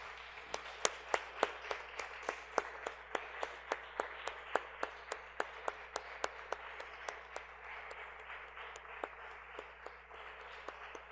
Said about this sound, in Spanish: Damos un aplauso